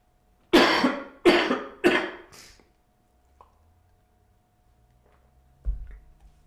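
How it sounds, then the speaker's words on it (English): Three loud coughs in quick succession, close up, followed by quiet with a few faint soft noises. "I gotta cough and drink water sometimes"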